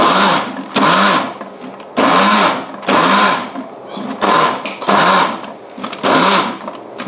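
A blender grinding vegetarian mushroom curry paste for khanom jeen nam ya, running in loud, close, repeated whirring bursts of about a second each with short gaps between.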